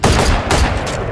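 Loud, close rapid gunfire from a weapon in the Valorant shooter game rattles in a dense burst of shots across about a second, with no talk over it.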